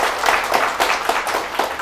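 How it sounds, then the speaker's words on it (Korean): An audience in a lecture hall applauds, a dense, steady burst of many hands clapping close by for a couple of seconds. "박수 한번 쳐주시고"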